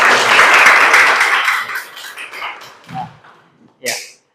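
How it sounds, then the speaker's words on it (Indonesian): Classroom audience applause bursts out as a loud, dense wash of clapping that fades over a couple of seconds, followed by a few scattered thuds and a teacher's voice. "Ya, kasih aplaus."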